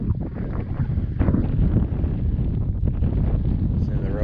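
Strong wind at a lake boat ramp buffets the microphone in heavy, uneven gusts, a low roaring rumble filling the clip.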